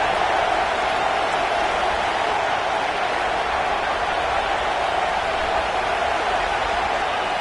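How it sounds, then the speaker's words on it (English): A football stadium crowd roars steadily during a red zone defensive stand, a dense, loud wash of cheering noise that holds constant throughout without breaks. "This crowd is trying to inspire this defense to make a big red zone stop."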